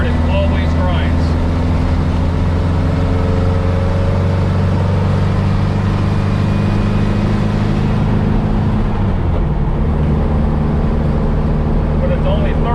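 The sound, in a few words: VW Baja engine driving, gears grinding going into third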